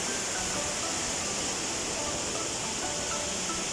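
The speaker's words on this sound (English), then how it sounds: "Bae Waterfall, Koh Chang." Kai Bae Waterfall on Koh Chang island in Thailand, a constant broadband rush of falling water, steady and unbroken, heard quite close with no other sounds standing out.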